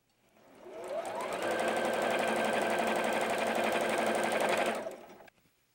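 A sewing machine stitches the seams of a pieced quilt block in one steady run of about four seconds, starting up and tailing off, loud and close with no talking over it.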